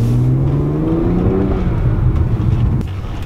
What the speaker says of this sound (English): We can definitely hear the spooling